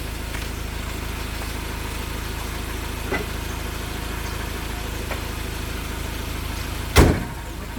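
A Ford four-door pickup truck engine running steadily as the truck is moved, a low continuous rumble throughout with a single louder thump near the end.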